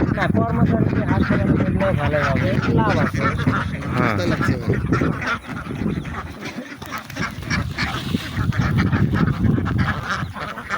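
Ducks on a duck farm quack and honk in a noisy flock while people talk over them, the calls continuing throughout.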